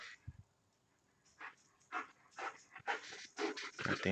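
Dog named Charlie panting in short rapid bursts, close to the microphone, growing busier and louder toward the end with a few faint whimpery breaths.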